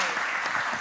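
A conference audience in El Salvador claps together in steady, dense applause that fills the whole short moment at an even, fairly loud level.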